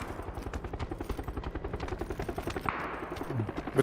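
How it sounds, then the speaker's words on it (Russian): A helicopter in a video game beats rapidly and steadily close by while bursts of automatic gunfire rattle along with it, loud and dense throughout with no talk. "Вертолет."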